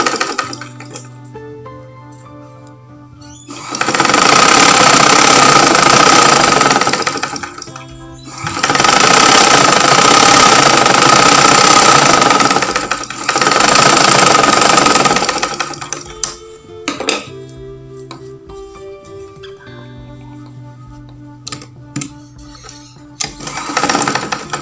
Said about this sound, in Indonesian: Kita jahit seperti ini.